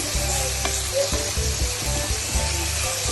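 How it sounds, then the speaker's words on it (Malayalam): Chopped tomatoes and onions sizzle loudly in a hot pan for a Kerala-style chicken curry, with a spoon scraping and stirring through them in short strokes over a constant crackle. "തക്കാളി ഇട്ട് കഴിഞ്ഞ് ചെറുതായിട്ടൊന്ന് ഇളക്കി കൊടുക്കുന്നു."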